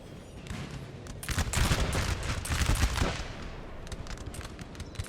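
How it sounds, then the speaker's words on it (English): Massed musket volleys crackle in Napoleonic Total War 3, a 4v4 battle, as dense overlapping gunfire swells to a loud rolling peak mid-way and then thins into scattered nearby shots. "And they are shooting."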